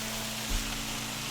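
Steady sizzling of food frying in oil, close and continuous, with one brief low thump partway through.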